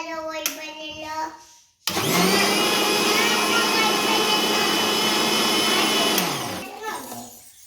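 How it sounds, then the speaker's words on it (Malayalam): An electric blender whirs a drink mixture, starting abruptly with a loud, steady high-pitched roar for about four seconds before winding down; a few light clinks come before it starts. "നമുക്കിത് ഒന്ന് അടിച്ചെടുക്കാം"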